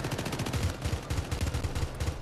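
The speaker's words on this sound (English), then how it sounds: "Everybody's shooting at one area." Gunfire in a co-op mission set in Argentina in the video game Syndicate comes as a steady stream of quiet, muffled shots, fired in short rapid bursts.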